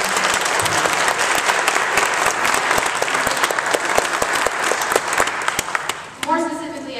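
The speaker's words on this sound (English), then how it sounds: "give them a round of applause" A crowd at an advocacy rally on the state capitol steps claps loudly and steadily, dense sharp hand claps filling the air nearby, then thinning as a voice begins speaking near the end.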